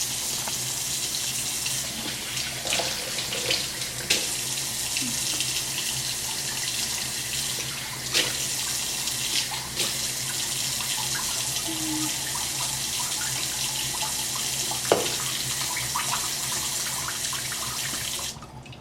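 Bathroom tap running steadily into a sink while a face is wetted and washed, a continuous close hiss of water with occasional splashes and small knocks, no speech.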